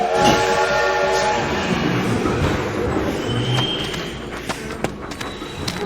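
Toy train sounds from a Lionel Trains video game, with a low rolling rumble throughout, a few whistle-like tones early on and sharp clicks near the end, fairly loud and steady.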